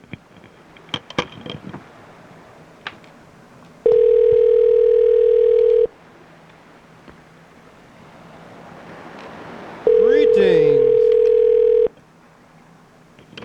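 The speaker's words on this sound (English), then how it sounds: "Listen to the phone ring a little bit here." A telephone rings twice, each a long steady electronic tone lasting about two seconds separated by a pause, loud and near, with a brief spoken greeting and some rustling before the first ring.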